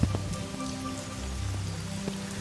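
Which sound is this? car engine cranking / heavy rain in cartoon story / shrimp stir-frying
heavy rain in cartoon story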